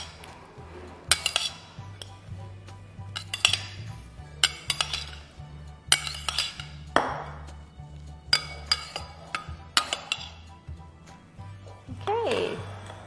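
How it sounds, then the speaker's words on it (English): A spoon scrapes and clinks repeatedly against a bowl while tempeh starter is mixed into soybeans, an irregular run of sharp taps over a low steady hum. "sprinkle some of this tempeh starter and mix it up"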